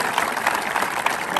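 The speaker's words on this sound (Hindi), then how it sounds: "एक बार दिल से ताली बजा दी सब लोग।" Dense, steady applause from an audience clapping for an army soldier being congratulated, a broadband wash of overlapping claps filling the whole stretch at even loudness with no talk over it.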